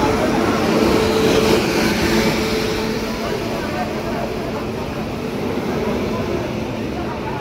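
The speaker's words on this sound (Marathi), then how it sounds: "पाहू शकता आता ट्रेन आली" On the Konkan railway from Panvel to Vilavde, a train arrives at a station with a broad, steady rumble and rolling roar, loud and close, softening slightly after the first few seconds amid a background murmur of people.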